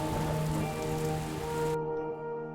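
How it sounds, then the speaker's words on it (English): Heavy rain pours down in a dense, steady hiss of drops striking a surface, loud and continuous, with high tonal lines running through it; the upper wash cuts off abruptly near the end. "Suddenly, the weather changed, and there was a huge downpour and lightning all around."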